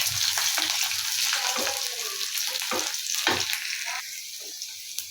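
Curry leaves and garlic fry in hot oil with a loud, continuous sizzle, broken by sharp bursts as ingredients hit the pan and are stirred, steady crackle to the end.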